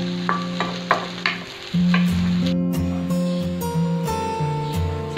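Pork pieces frying in a pan for ginisang ampalaya until golden brown, with a steady loud sizzle preceded by a few sharp stirring clanks.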